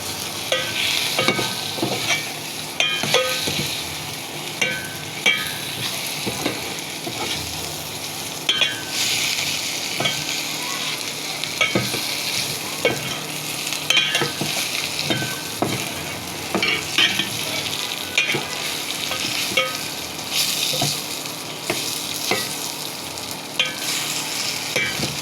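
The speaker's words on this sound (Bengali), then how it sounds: "উল্টে পাল্টে পেঁয়াজের সাথে ভেজে নিতে হবে" Hilsa pieces are turned and fried together with onions in a pan: a steady sizzle broken by repeated scraping and knocking strokes of a spatula at a loose, regular rhythm, close and fairly loud.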